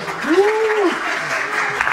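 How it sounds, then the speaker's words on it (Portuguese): Applause for graduating students at a Brazilian federal institute ceremony. It is a dense, steady clapping over about two seconds, with a rising and falling voice or cheer heard over it. "Uma salva de palmas para vocês, né?"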